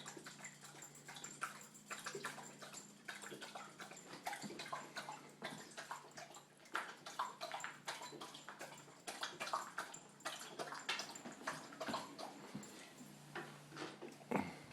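A female dog laps water from a bowl during a break between tricks, with a quick, steady run of wet slurping and splashing at close range for several seconds.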